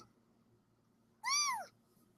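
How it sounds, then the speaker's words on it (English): A month-old kitten gives a single clear, rising-and-falling meow, close and distinct against a quiet room hum. "it's a kitten"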